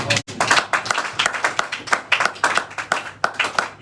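A church congregation in Cape Town claps in a steady, fast rhythm, many hands together, close and lively, with a faint voice underneath.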